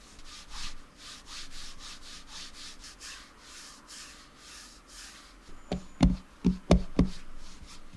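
Soft, steady rubbing of a mouse gliding over a Zowie G-SR II cloth pad, followed near the end by a few sharper, louder knocks and taps.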